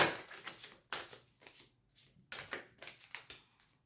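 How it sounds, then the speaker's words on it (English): Close, crisp riffling of an oversized card deck, several quick shuffles in bursts with short pauses between them. "One more shuffle. Try to shuffle these real good."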